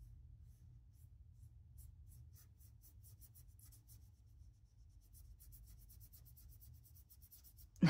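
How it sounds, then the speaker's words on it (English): A pen scratches across paper in left-handed writing, with continuous soft strokes and small taps heard close and quiet against a low background hum, ending in a brief louder knock. "Weird lefty writing."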